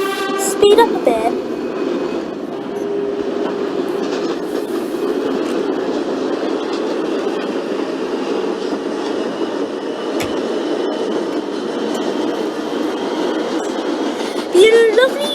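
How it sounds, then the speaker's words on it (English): A simulated New York subway express train in OpenBVE rolls steadily along the track with a continuous rumble and clatter, a thin metallic wheel-flange squeal rising above it, and sharp squeals at the start and end of the run. "as you heard there, lovely kind of flange squeal on the track"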